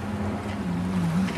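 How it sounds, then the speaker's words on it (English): A sailboat running upriver under mainsail alone in a nice breeze, giving a steady close rush of water and wind with a low continuous hum throughout. "So I'm sailing upriver under just the main."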